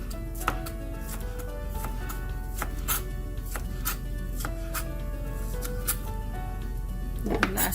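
Steady, quick knife strokes on a cutting board, a regular chopping rhythm close by with faint kitchen background.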